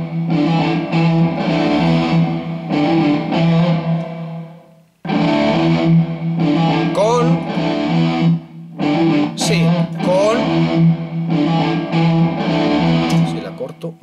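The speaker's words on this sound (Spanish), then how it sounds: "esta es una Reverb Stadium que tengo aquí puesta, que la he hecho a través del PC" An electric guitar plays through a Reverb Stadium plugin running on a PC, with dense distorted chords in loud phrases, a brief pause midway, and a lingering reverberant tail between strums.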